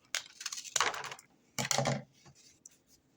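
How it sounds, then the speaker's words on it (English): Scissors snip through a flattened cardboard toilet paper roll in two short bursts of crisp cutting and crunching, close and fairly quiet, with a few small rustles after. "Then I'm going to cut them in half this way."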